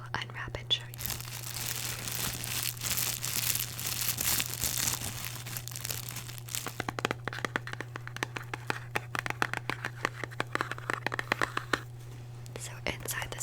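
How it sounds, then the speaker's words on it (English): Crinkling, rustling packaging as a red box is unwrapped close up, with soft whispering during the first half and sharp crackles and crinkles continuing after. "I shall unwrap and show you."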